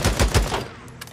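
Rapid bursts of gunfire from the video game Days Gone, four or five sharp shots in quick succession up close, then a fading tail with a faint later crack.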